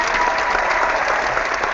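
An applause sound effect: a dense crowd claps steadily and evenly for the whole stretch, with no pause or swell and no voices over it.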